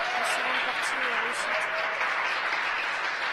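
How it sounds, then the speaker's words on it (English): Applause from the SpaceX team in Hawthorne after the Falcon 9 second stage achieves orbital insertion, a broad steady clapping wash with a faint voice running beneath it. "You hear the applause here in Hawthorne."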